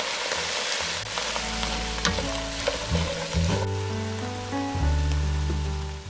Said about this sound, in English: Now let's add in our garlic.